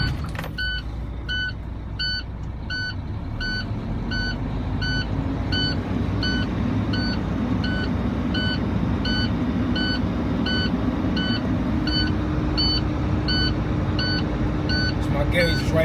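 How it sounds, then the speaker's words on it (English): A CDL truck's engine idling steadily after starting while air brake pressure builds, a low continuous rumble with a repeating electronic warning beep sounding throughout, nearby and loud. "now I'm going to start my vehicle"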